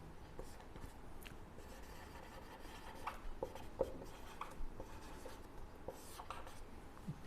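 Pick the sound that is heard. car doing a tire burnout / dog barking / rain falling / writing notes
writing notes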